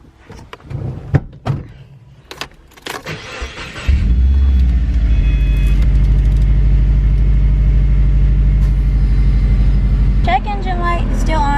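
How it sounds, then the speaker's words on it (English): A car being brought back to life after an oil change starts up and settles into a steady, loud idle, with heater blowing, after some clunks and knocks; a brief higher sound near the end. "Now I have to turn on my car"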